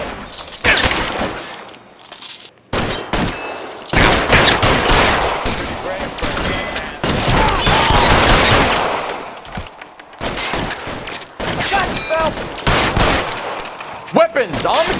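Loud bursts of gunfire in L.A. Noire, rapid automatic volleys and single shots separated by short gaps, close and sharp, with occasional shattering sounds.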